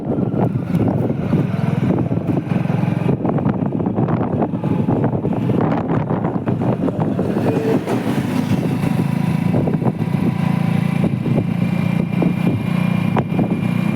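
A tractor engine drones steadily at close range for the whole stretch, slowing down, with rough low rumble and wind noise mixed in.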